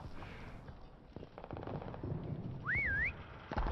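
A player character whistles in a Prop Hunt video game match, one short rising-and-falling whistle cutting clearly above a busy, noisy game background.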